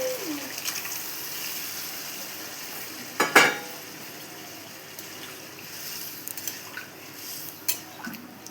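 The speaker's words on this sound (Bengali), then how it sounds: "এবার আমি সেদ্ধ করা আলু মটরটা এর মধ্যে দিয়ে দেবো" Boiled potatoes and peas are tipped into fried spice mix in a pan and stirred, giving a faint, low sizzle with scraping and one sharp clatter of utensil on pan.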